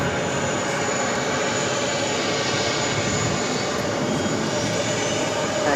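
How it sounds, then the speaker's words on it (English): A JetBlue Airbus A320 in New York Jets livery takes off from JFK, a loud, continuous jet engine roar that holds steady throughout without voices. "This is JetBlue 577 taking off to Jacksonville on the A320 in the New York Jets livery."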